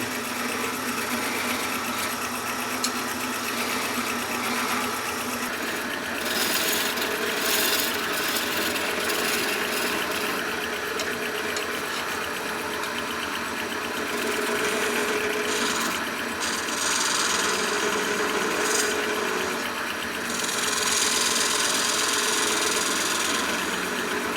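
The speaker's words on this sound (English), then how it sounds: "Now I can get in there with the finer angled chisel and start working that top cap like I'd like to." Wood spins on a Shopsmith lathe while a fine angled chisel cuts the top cap of a mushroom turning, making a continuous motor hum with a steady scraping rasp that swells and eases as the tool works.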